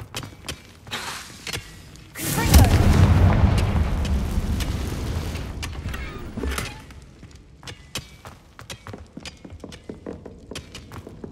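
Confringo blast spell in Hogwarts Legacy: a heavy, loud explosion bursts out, rumbling and crackling for several seconds before decaying into scattered small pops and clicks.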